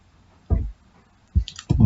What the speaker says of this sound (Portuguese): Eu vou terminar de digitar aqui